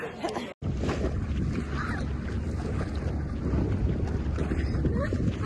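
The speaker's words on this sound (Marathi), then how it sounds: "आता आम्ही केली आहे स्पीड बोट ही राईड" A speed boat on a dam reservoir, heard as a continuous roar of engine and rushing water mixed with heavy wind buffeting the mic, steady and close after a brief dropout near the start, with faint voices underneath.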